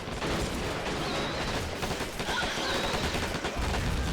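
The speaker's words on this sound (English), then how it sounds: "the bazooka taking a good shot there" Bazooka fire in the Men of War Assault Squad 2 strategy game, amid dense continuous battle noise with gunfire rattling and blasts blending into a steady loud roar.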